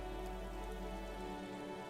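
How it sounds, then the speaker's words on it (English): In the video game Disco Elysium, rain patters onto the roof of a woodshed in a yard, a faint, steady hiss of droplets with a low ambient hum beneath. "Rain falls onto the roof of a woodshed."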